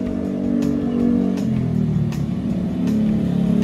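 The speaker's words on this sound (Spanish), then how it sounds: "Ahí viene la motora. Escuchen el ruido." A Honda Ruckus scooter with an SC Project exhaust rides past, its engine note dropping in pitch midway as it goes by, fairly loud and close, with faint background voices.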